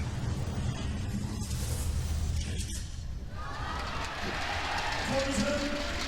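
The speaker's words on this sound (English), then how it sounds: "Crowd here, absolutely wild, completely full." A packed esports finals crowd at a StarCraft GSL Code S grand final cheers and roars continuously as a wide, dense wash of noise, with excited commentary running over it.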